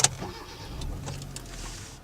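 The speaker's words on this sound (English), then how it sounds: "The next thing you'll notice is the engine as soon as you turn the car on." A 2015 Hyundai Accent car engine turns over and settles into a low idle, heard close and fairly quiet for about two seconds with no talk.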